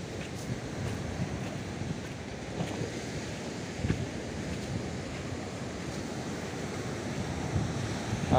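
Waves break on Srau beach in a continuous wash of surf and wind noise, with occasional louder crashes; no one speaks.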